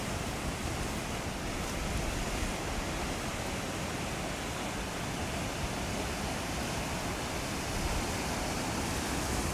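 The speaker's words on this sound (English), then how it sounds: "The beautiful sound of the sea." Ocean waves wash over the rocks at a Sydney rock pool in the early morning, a continuous, full rushing roar with no break and no voices.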